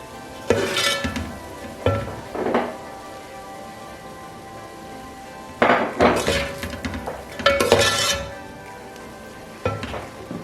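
A serving spoon scrapes and clinks against a pot while wedding-style degi zarda sweet rice with almonds is dished out, in scattered bursts of metallic scraping with quiet pauses between.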